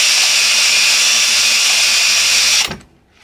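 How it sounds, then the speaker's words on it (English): A power drill with a countersink bit cuts into hard plastic, a loud, steady high-pitched whine running close and continuous before stopping abruptly near the end. "I need to get the old countersink on the go"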